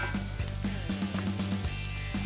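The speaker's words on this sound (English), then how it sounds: "the onion's getting really caramelized, bacon's getting nice and crisp." Onions caramelizing and bacon crisping together in a pan, a steady close sizzle and frying crackle running throughout, with a low steady hum underneath.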